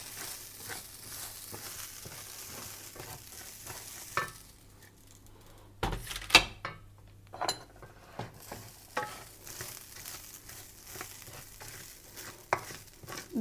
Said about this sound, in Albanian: E skuq pak, shumë pak orizin